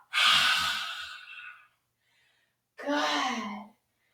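Two forceful breaths during a dragon breath yoga exercise, a long loud breath then a shorter sharp huff after a brief pause, close and alone.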